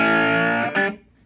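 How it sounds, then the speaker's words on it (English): A cigar box guitar played through a Roland Micro Cube amp on its British setting with slight distortion and no pedals rings out in a sustained, harmonically rich strummed chord, then a second attack before fading out. "this right here is just the amp, no pedals, got a little bit of distortion on it."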